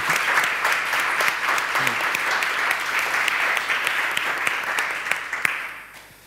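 An audience at a literary translation event in Berlin applauds the translators: sustained, even clapping from many hands filling the room, fading out at the end.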